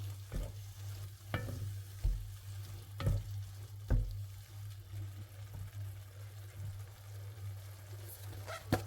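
Ground beef mince, about 500 grams, browning in a pan, with soft continuous sizzling broken by occasional scraping stirs and clacks of a utensil against the pan, close and fairly quiet, no talking.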